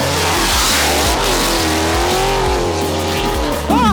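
Dodge Challenger Hellcat with over 900 bhp and a 500 bhp Mercedes C63 AMG launch together off the start line on a track, engines roaring loud and close with deep low growl, rising revs and a tire squeal near the end.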